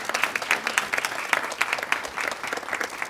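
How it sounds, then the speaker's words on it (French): An audience claps steadily during a ministerial visit in Villèle, a brisk, crackling round of applause that stays fairly close and even, with no speech over it. "Vous pouvez les applaudir"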